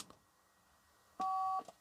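A single electronic beep from a button on a Rolls-Royce Silver Spirit's car phone sounds for a moment, clean and steady, against a quiet background.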